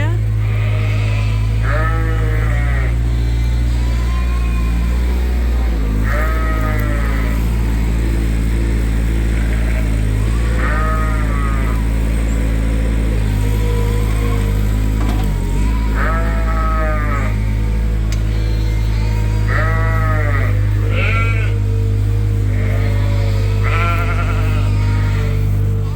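Ewes bleat in a straw-bedded creep pen on a sheep farm, calling out repeatedly at irregular intervals, some near and some farther off. A constant low mechanical drone runs beneath the calls throughout.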